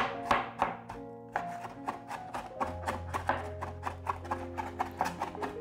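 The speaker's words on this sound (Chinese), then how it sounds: "把花椰菜切碎， 再切更碎一点" A knife chops cauliflower finely on a board, producing a fast, regular series of crisp knocks, close and fairly quiet, with no talking.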